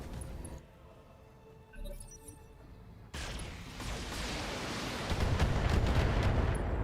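Battle mechs trade fire in the 2018 video game BattleTech, with booming explosions and weapon impacts rumbling in a loud, dense barrage that swells toward the end after a quieter stretch, no talking over it.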